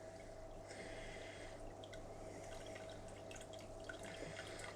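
Water poured slowly into a shrimp tank, trickling onto moss, gives a faint, steady running and dripping sound with scattered small splashes, continuous throughout and without talk.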